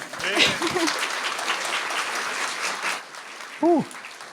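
Audience applause after a visual effects lecture on creating a slamming AoE, a full round of clapping that gradually tapers off, with a couple of short voices cutting in near the start and again toward the end.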